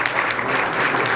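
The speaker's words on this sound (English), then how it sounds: "We should applaud them" A townhall meeting audience in Ward 4 in Hastings bursts into applause, a brief, dense and steady wash of clapping that fills the room at an even level.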